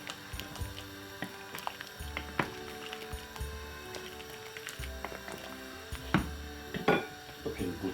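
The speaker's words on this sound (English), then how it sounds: "Give it a stir." A spoon stirs white onion into homemade chicken soup in a pot, sounding as soft scraping and light clinks against the pot, with sparse knocks and a faint background hum.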